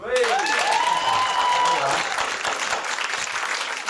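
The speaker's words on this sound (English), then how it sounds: "Can I find out by applause how many people are in from Britain?" A comedy club crowd at the Hotel du Nord claps and cheers to show they are from Britain, a loud burst of applause with a whoop rising over it early on, then steady clapping that eases slightly.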